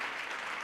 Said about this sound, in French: Non, il faut l'applaudir.